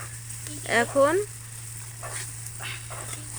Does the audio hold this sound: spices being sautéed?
yes